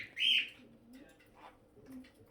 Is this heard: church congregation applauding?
no